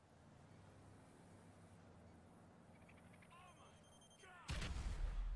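An explosion in the video game GTA 5: a quiet, hissy game ambience with faint tones, then a sudden loud, low boom near the end. A faint voice is present.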